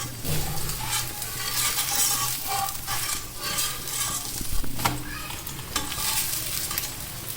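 A masala paratha cooks in ghee on a griddle, a continuous crackling sizzle with occasional scraping and light clinks of a spatula on the hot surface, loud and close, no talking.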